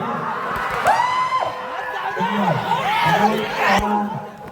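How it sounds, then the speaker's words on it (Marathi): Crowd gathered at a bullock cart race, voices shouting, whooping and laughing close by in overlapping bursts, with a commentator's talk over the noise. "बघा गर्दी जमली"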